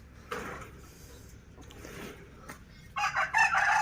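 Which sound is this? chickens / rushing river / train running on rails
chickens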